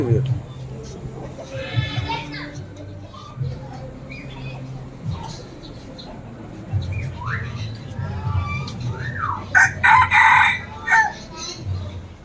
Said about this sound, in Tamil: இந்த சேவலையும் மயிலையும் ஒரே இடத்தில் ஒரு சேரக் கண்டு அது கூவியது